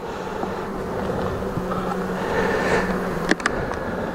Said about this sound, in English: So I'm not impressed by the number of bees in this hive.